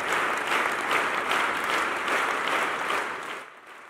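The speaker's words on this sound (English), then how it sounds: "Apostle Grace Lubega and his congregation were unwavering in their determination, clapping non-stop for the entire duration of the record-breaking event" A large church congregation claps continuously in a dense, loud roar of applause during a record-breaking marathon clapping event, sustained evenly before tapering off at the very end.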